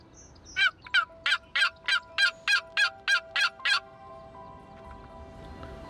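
A wild turkey gobbles in a rapid series of about eleven loud, even bursts at dawn, each sharp and close, then stops, leaving quiet outdoor ambience.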